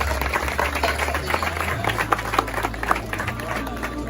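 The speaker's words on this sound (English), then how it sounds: "Please, a round of applause." An audience at a student union handing-over and swearing-in ceremony claps in applause, a continuous patter of many hands at moderate loudness with a crowd murmur underneath.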